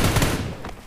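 Rapid gunfire in PUBG New State gameplay as an enemy bot is shot, a dense burst of shots up close that fades out within a second.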